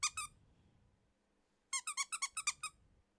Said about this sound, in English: they have squeakers in them.